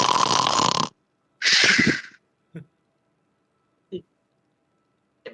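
A person imitates snoring with a couple of raspy, breathy snorts in quick succession, followed by a few short isolated grunting sounds separated by silence.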